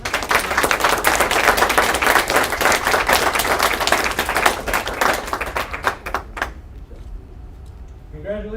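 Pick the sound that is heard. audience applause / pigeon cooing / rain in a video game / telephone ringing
audience applause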